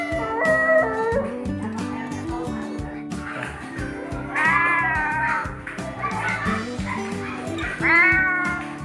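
A man mimics a dog's barks and yips at a talent show, producing loud, close, repeated yelping and whining calls, some of them cat-like, in quick bursts.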